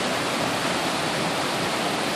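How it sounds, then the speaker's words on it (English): A flooded creek in a Tahitian village pours over and washes out a road, a loud, dense, unbroken rush of water with no talk over it. "the water is running over the road,"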